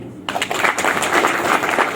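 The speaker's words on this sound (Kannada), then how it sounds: "ಜೋರಾಗಿ ಒಂದು ಚಪ್ಪಾಳೆ ಕೊಡಿ" A crowd at a film motion teaser launch event bursts into loud, dense applause that starts abruptly and continues steadily.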